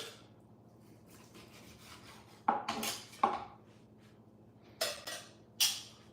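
A knife trims a steak on a cutting board during a barbecue, giving a few short scraping strokes in two pairs over a quiet hum, with no talk.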